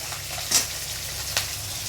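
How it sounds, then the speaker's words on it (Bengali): Tilapia fish frying in oil, heard as a steady close hiss and crackle with a couple of brief sharper spits, no voices. "মা তেলাপিয়া মাছ ভেজে নিচ্ছে।"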